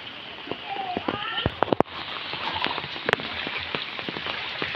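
Heavy rain hammers down during a pre-dawn flash flood in Dadap village, Juntinyuat, with a dense steady wash of drops and splashes, sharp knocks, and people talking over it.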